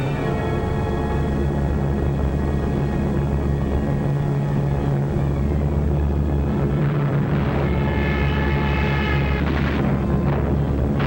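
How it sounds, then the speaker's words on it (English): German bomber aircraft droning overhead during the invasion of Norway, a steady, loud, continuous engine hum with sustained low tones and no speech. "So the Germans brought up their bombers."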